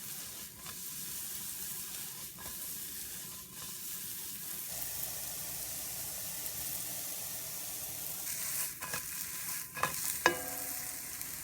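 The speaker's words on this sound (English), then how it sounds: "And that's it, pan-fried giant puffball mushroom." Pieces of giant puffball mushroom pan-frying in a skillet, with a steady close sizzle and hiss, occasional stirring and flipping taps, and a louder crackle near the end.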